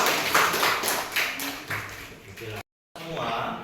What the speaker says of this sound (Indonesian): Coba untuk tepuk tangan dulu untuk kelompok 1.